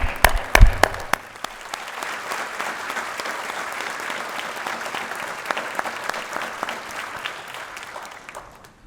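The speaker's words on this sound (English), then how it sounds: "another round of applause" Audience at a police department's annual awards ceremony breaks into applause after a few sharp opening claps. The clapping then settles into a sustained, even round that continues for several seconds at a steady moderate level.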